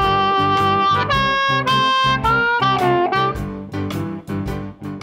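Electric blues harmonica lick played through a microphone, a run of bent, wailing reedy notes with rhythmic chugging over a backing groove, loud and close, with no talking.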